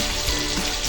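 Potatoes frying with salt and turmeric for a vegetarian aloo paneer dish, a continuous dense sizzle at close range with no voices.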